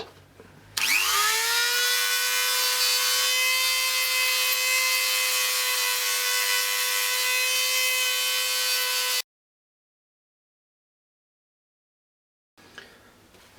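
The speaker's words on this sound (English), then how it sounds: "I'm going to use a Dremel because it's quicker" Dremel rotary tool with a sanding drum shaping a wooden penknife handle, spinning up to a high whine that holds steady with a grinding rasp for about eight seconds, then cutting off into silence before faint noise returns.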